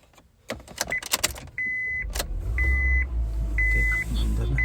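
A jeep engine turns over and settles into a low, steady idle while warming up, preceded by clicks and rattles and broken by repeated short electronic beeps.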